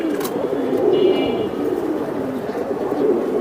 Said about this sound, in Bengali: এটা হ্যামার কবুতর ভাই